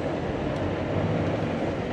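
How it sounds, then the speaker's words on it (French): Trains roll past nearby in a continuous heavy rumble with steady rail noise and no talking. "Ah, avoir des beaux trains comme ça me ferait plaisir."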